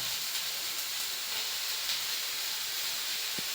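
Onions frying in a pan, browning until reddish, give a steady broadband sizzle and hiss that holds evenly throughout at a moderate level, with no voices.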